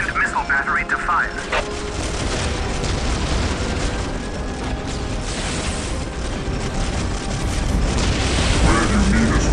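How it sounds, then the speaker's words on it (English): Artillery tank missile battery firing in a video game, heavy rumbling launches and mechanical clatter running continuously and loudly, with a voice speaking over it. "Whirlwind artillery tank here. Preparing whirlwind missile battery to fire."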